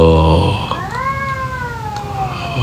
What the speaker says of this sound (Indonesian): Iya, kedengeran ya suara kucingnya.